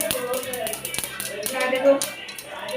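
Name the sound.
mustard seeds spluttering in hot oil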